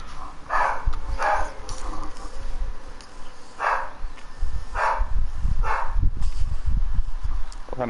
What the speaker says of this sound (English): Oh, you can hear my dog in the background?